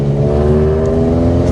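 A Mk2 Golf GTI, a one-off build, accelerating up a stretch of road, its engine note loud and close with a steady deep droning hum and layered harmonics throughout.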